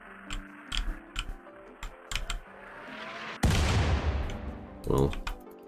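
A mortar firing a shell in RimWorld, one sharp heavy boom followed by a long rumbling tail, preceded by light rhythmic ticking game sounds and ending in a second thump.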